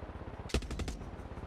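Helicopter-mounted guns in the video game Far Cry 6 fire a short, rapid burst of several loud cracks over a low background rumble.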